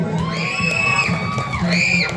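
A crowd at a basketball game shouts and cheers loudly, with overlapping whoops and yells rising and swelling twice in quick succession.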